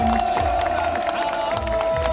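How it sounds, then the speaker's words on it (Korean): Crowd cheering and applause fill a South Korean Future Korea Party campaign rally, a dense, steady roar of many voices and hands with a sustained tone running through it. "다시 한번 큰 박수 부탁드립니다."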